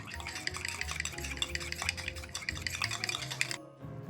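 Three egg yolks being mixed in a bowl, a quick steady whisking rhythm of soft clicks and taps, fairly quiet and close, stopping abruptly near the end.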